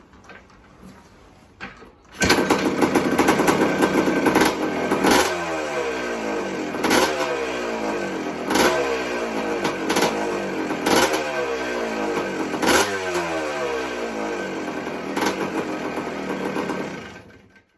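An air-cooled 1981 Yamaha YZ250H motorcycle engine kicks into life and runs steadily with a loud, rattly, uneven idle, a few revs lifting it periodically, close by and without talk.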